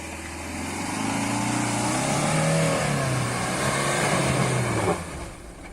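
A new Land Rover Defender engine drones and revs loudly in third gear while driving through slippery mud in grass-gravel-snow mode, holding steady near the listener before dropping off abruptly near the end.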